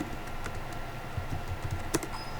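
Keystrokes on a computer keyboard entering a search term in a YouTube browser, a short run of soft, close clicks with one sharper tap near the end over a steady background hum.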